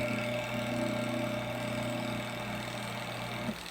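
A spin dryer's electric motor runs steadily with the lid open, giving a continuous low hum with a buzzy drone, fairly close and even, cutting off abruptly near the end.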